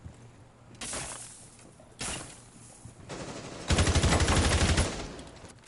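Gunfire rings out in a competitive video game match: several separate bursts of rapid automatic shots, the last and loudest one running about a second, with quieter gaps between them and no voices.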